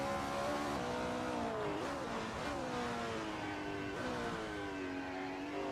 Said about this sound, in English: changing right down, braking hard for the chicane